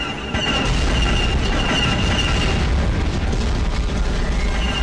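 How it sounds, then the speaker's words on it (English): A sustained, heavy rumbling blast from a separatist fuel depot exploding in the Star Wars Clone Wars game, loud and continuous throughout with a faint tonal whine over it. "be careful not to be too close when that thing explodes"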